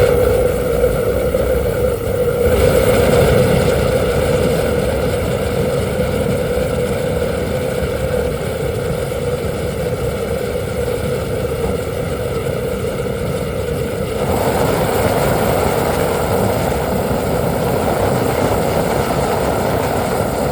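An air compressor struggles on an oxygen lance rotary kiln burner rig, giving a loud, steady, low droning motor hum that runs unbroken for about twenty seconds and shifts tone slightly partway through, with no voices.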